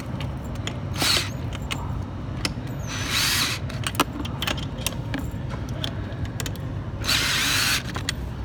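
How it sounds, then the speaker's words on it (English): A power drill whirs in short bursts driving screws during furniture assembly, between clanks and metallic rattling, close by, with busy mechanical clatter throughout. "I'm using power tools just to save myself some time"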